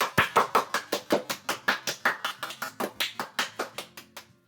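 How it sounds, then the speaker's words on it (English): Applause for a poem recitation in the video game Doki Doki Literature Club, about twenty evenly spaced claps in a steady rhythm, close and crisp, fading at the end. "The four of us applaud."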